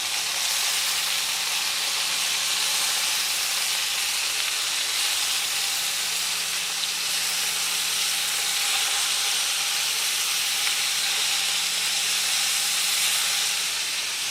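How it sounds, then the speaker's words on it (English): Burgers sizzling steadily in a Cuisinart pan just after being flipped, a continuous loud hiss and crackle with a faint low hum beneath, no talking. "Now I will flip the burgers over."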